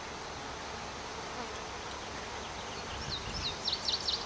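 Steady buzzing of many honeybees at an open hive fills the air during a hive inspection, a continuous drone with a few closer passes near the end.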